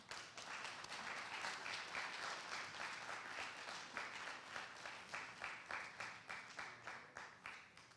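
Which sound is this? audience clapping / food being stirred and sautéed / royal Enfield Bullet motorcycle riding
audience clapping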